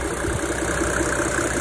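A 1999 Mercedes-Benz E300 turbodiesel inline-six idles steadily up close, a loud, even, clattering diesel drone with a faint knocking rhythm and no pauses.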